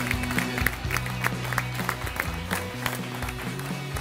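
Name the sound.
studio audience applause for the cooking contest champion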